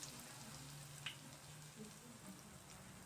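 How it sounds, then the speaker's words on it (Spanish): Ripe plantain frying in hot oil in a pan, a soft steady sizzle with faint crackles and pops, quiet and continuous. "Suena el aceite que lo tengo calentando"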